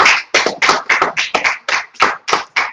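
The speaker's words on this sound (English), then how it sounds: "round of applause" Applause from a crowd, about ten bursts of clapping in quick succession, loud and close, with no talking.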